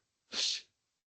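A single sneeze bursts out, short and fairly loud, breathy with a sharp hissy peak, alone with no talk around it.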